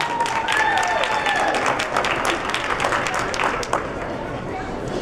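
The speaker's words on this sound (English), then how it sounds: "Nice round of applause for your seven finalists" Loud, dense applause from a ballroom dance competition crowd greeting seven finalists, continuous clapping with a few whistles and cheers, close and sustained for several seconds before easing slightly.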